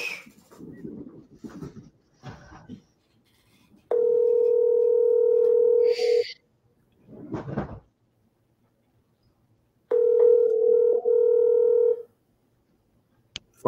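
A phone dialing Taco Bell: a few faint handling clicks and keypress sounds, then a steady ringback tone sounding twice with a silent gap between the rings. No speech is heard.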